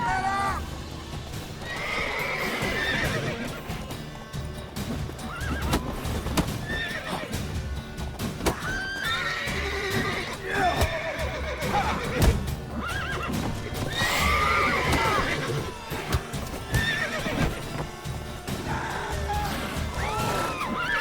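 Horses neigh and whinny repeatedly over clopping hooves in The Witcher 3 video game, loud and close, mixed with shouting voices and bursts of commotion.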